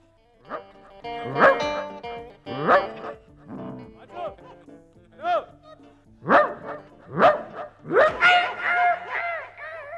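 A dog barks repeatedly in sharp, loud yips and bow-wows at uneven intervals, close by, with a few whimpering, rising yelps toward the end and no talking over it.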